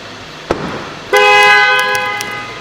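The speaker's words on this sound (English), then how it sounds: "Horn's working." A van's horn sounds once in a steady, loud toot lasting over a second during a vehicle service check, preceded by a single sharp click, with no talk.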